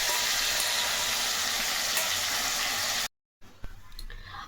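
Ivy gourd paste cooks in a pan, giving off a dense, hissing sizzle that cuts out abruptly, then returns as quieter scraping and stirring noises.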